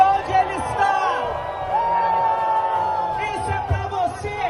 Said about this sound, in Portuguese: E um grito bem gostoso pro André Valadão, aquela vaia que ele merece